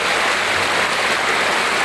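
Floodwater from the Chi River spilling over into a village in Maha Sarakham, a steady broadband rush of flowing water like a stream or weir, continuous and fairly loud with no voices.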